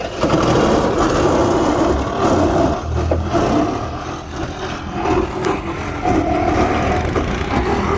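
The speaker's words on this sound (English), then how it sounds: "what you're hearing is the sawzall inside the vehicle is cutting from the inside out" A reciprocating saw works from inside a vehicle during a rescue training drill, its harsh buzzing drone running loud and continuous with slight dips and surges as the blade bites through metal.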